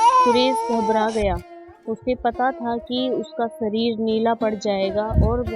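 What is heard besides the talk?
baby crying loudly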